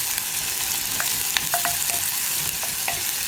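Ginger and onion sautéing in a hot pan make a steady, fairly loud sizzle, with light spoon scrapes and clicks scattered through it and no talking.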